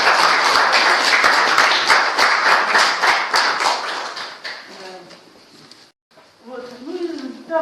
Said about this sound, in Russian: Ребят, похлопаем.